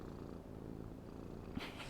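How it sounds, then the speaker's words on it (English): A foster cat recovering from an injury purrs close to the microphone, a soft continuous low rumble, with a faint rustle near the end. "Can you purr into the microphone?"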